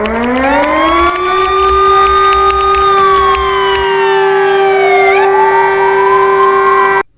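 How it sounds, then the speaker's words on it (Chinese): A typhoon all-clear warning siren wails loudly and steadily, holding a long sustained tone with several harmonics that sags and shifts slightly partway through before cutting off abruptly at the end, with no voices over it. "这是台风解除警报。"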